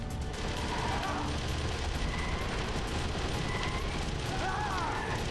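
Rapid gunfire in the video game Metal Gear Solid: The Twin Snakes, a loud, continuous barrage with a heavy low rumble and no break, with some talk mixed in.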